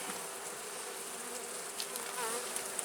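Agitated honeybees hum around a nuc hive during an inspection, a dense steady buzz close by with individual bees whining past now and then.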